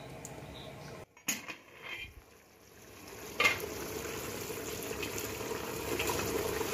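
Meat sizzles and fries in a pot with a steady crackling hiss, briefly broken by stirring and clattering before the frying settles back into a continuous, close sizzle.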